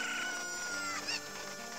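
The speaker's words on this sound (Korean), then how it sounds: "닭을 들 수가 있어요." A chicken clucks in the 3DS remake of The Legend of Zelda: Ocarina of Time, a short burst of squawking in Kakariko Village over a steady game background tone, with no talk.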